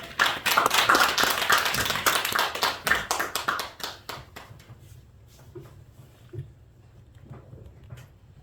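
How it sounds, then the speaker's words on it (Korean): A church congregation at a thanksgiving worship service claps to welcome a pastor: dense, lively applause for about four seconds, then thinning to a few scattered claps and taps. "박수로 환영합니다"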